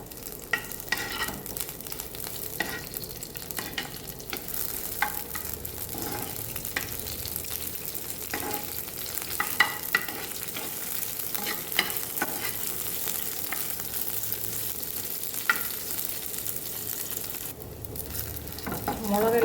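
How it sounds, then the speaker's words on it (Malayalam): Chopped chilli frying in oil in a pan, a steady close sizzle running throughout with scattered scraping stirs and clinks, no voices. "എന്നിട്ട് ഇതൊന്ന് നന്നായിട്ടൊന്ന് വറുത്തെടുക്കാം"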